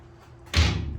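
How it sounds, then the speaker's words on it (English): An old metal jail cell door in an abandoned jail is swung shut, landing as a single loud close-up slam after a brief quiet lead-in, with a short ringing decay. "Let's see if I can close this one."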